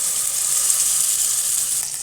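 Ground ginger chutney hits hot tempering oil with dried red chillies and curry leaves, giving a steady, loud, close sizzle and hiss that holds evenly for about two seconds with no voices.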